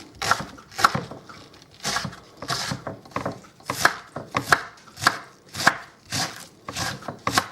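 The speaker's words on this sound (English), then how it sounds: "give it a good chop." A knife chops ingredients finely on a board for chicken wontons, with sharp, close, irregular strokes arriving in quick bursts, loud and alone.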